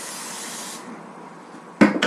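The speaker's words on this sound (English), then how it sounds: "I'm going to put that to the side right quick so I can, first of all, respray" Cooking spray hisses from a can onto a waffle iron for pumpkin waffles, one long steady spray that fades out, followed by two short, louder clattering bursts nearby.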